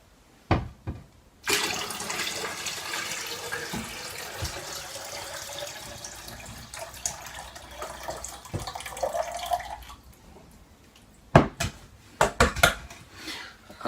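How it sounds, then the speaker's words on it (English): Tap water pours steadily and loudly into a new starter fish tank for several seconds, then cuts off, followed by a few sharp knocks and splashes. "I'm going to put some water in"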